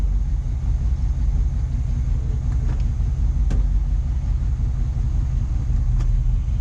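A 1971 Chevy engine idling just after starting, a steady low rumble close by with a few faint clicks over it.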